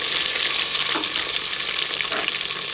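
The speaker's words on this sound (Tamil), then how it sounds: "இப்போ டொமேட்டோ நல்லா வதங்குற வரைக்கும் நம்ம வந்து கிண்டிக்கிட்டு இருக்கணும்" Tomato and onions sizzle and crackle in a hot pan for chicken biryani, a dense continuous frying hiss with occasional scraping as a spoon stirs.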